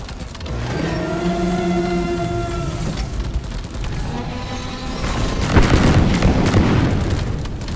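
Explosions in the video game Deep Rock Galactic come as a loud, sustained roar of booming blasts with ringing tones, swelling into a dense rumbling burst near the end, with no talk.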